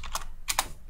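Two or three crisp, close clicks of computer keyboard keys as a command is typed into Matlab for Nexus 2 integration, with quiet gaps between the keystroke bursts and no talking.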